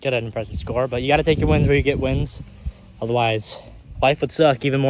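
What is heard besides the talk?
None of the usual background noises is heard.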